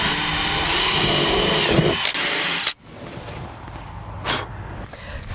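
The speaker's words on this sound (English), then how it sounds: "we'll drill these holes about 2 inches apart." A power drill bores holes in reclaimed wood for a raised garden bed, with a loud, whining run of almost three seconds that stops abruptly and leaves quieter handling noise and faint footsteps.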